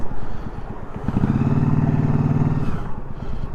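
A Yamaha Drag Star 1100 motorcycle engine runs steadily and close, its low rumbling throb swelling briefly in the middle before settling back, with no talk over it.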